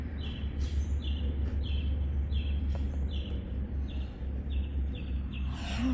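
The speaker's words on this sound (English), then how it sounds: "So that's the bird over there" A small bird near its nest gives a repeated series of short, high chirps at a steady rhythm, moderately close, over a constant low outdoor rumble.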